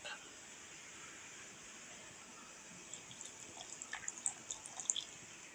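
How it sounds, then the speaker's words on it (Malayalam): Water is poured over raw mango, green chilli and ginger for juice: a faint background hiss gives way to soft trickling and dripping splashes that grow in the second half. "കുറച്ച് വെള്ളം ഒഴിക്കാം നമുക്ക്."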